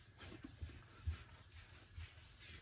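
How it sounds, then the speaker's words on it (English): Soft, steady rubbing strokes of wet sandpaper on a 1966 Mustang body panel, repeated in a slow rhythm, quiet and close, with no talking. "And then you just start sanding."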